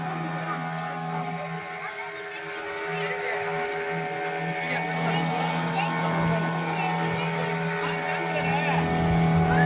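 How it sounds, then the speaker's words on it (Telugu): Motorboat cruising on the water near Puducherry, a steady droning engine hum with rushing water that grows slightly louder over time, with people talking over it. "మా వెనకాల కూడా ఒక బోట్ వస్తుంది మనం చూడవచ్చు"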